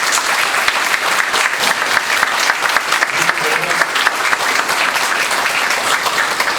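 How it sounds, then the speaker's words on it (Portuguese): An audience at an evening talk on the future of money applauds to welcome a speaker to the stage, with loud, dense, sustained clapping from a full room and no talk over it. "Peço que todos o recebam com uma salva de palmas, Jorge Azevedo"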